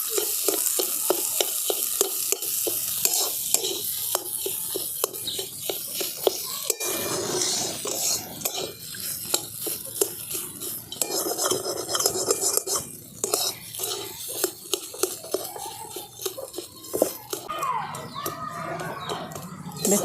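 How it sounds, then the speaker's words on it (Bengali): Potatoes with salt, turmeric and cumin powder fry and get stirred in a pan, a steady close sizzle broken by repeated scraping and clinking of a spoon against the metal. "এগুলো সব দিয়ে আমি আলুটাকে খুব ভালো করে ভাজা ভাজা করে নেব।"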